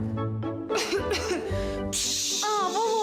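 Coughing in a Ukrainian TV advertisement for a cough medicine, a few short harsh coughs mixed with voices and music, near and clear.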